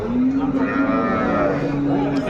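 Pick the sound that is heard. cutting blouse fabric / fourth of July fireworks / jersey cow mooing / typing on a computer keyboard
jersey cow mooing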